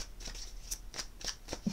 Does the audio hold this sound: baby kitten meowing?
no